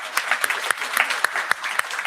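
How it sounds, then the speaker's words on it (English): A small audience at a climate summit gives a brief round of applause, sparse distinct claps in an uneven rhythm. "Let's give him a big round of applause."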